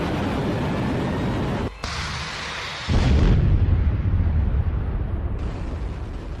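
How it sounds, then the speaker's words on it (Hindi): Explosions from the Russia-Ukraine war near Vuhledar in Donetsk, heard as a dense, rumbling roar that drops out briefly, then swells into a louder, heavier blast and continues as a sustained distant boom. "यूक्रेन युद्ध के ये धमाके भी बहुत छोटे साबित होंगे"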